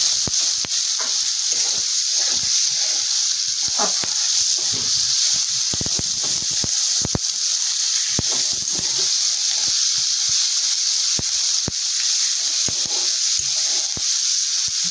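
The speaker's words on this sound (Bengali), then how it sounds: "এবার আমি গরম তেলে পেঁয়াজগুলো দিয়ে একটু নুন দিলাম পেঁয়াজটা একটু লালচে লালচে করে ভাজবো" Onions fry in hot oil with a pinch of salt, a steady bright hiss of sizzling close by, broken by occasional sharp pops and light clicks, continuous throughout with no talking.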